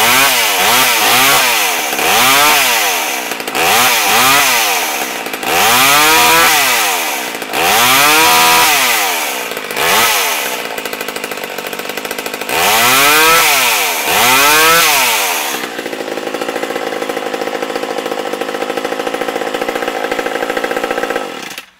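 A small vintage McCulloch Eager Beaver chainsaw is pull-started several times with sputtering bursts, then catches and revs loudly before settling into a rough idle.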